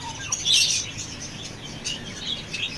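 Birds and pigeons at a roadside bird market in Sharsha, Jashore, giving short scattered chirps and tweets over a dull background murmur, fairly close and moderate in level, with no talk.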